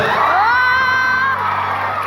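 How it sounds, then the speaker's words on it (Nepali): A seminar audience of students cheers, whoops and shouts loudly and continuously for a short burst, with the crowd noise filling the room. "जोरदार ताली यसको लागि ल।"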